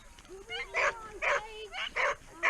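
A dog on a homestead whimpers and lets out short, yelping barks, about four bursts in quick succession, loud and close, with whiny tones between them.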